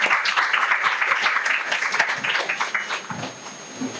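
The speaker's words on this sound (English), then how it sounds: "Give a round of applause." Audience applause at a ceremony where books and mementos are handed to a guest, a steady dense clapping that carries on for several seconds and then thins and fades toward the end.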